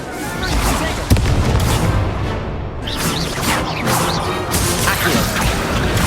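The Incendio fire spell is cast in Hogwarts Legacy, a whooshing burst and crash of flame amid loud, busy combat effects, with a sharp impact near the start.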